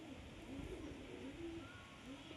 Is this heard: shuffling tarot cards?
no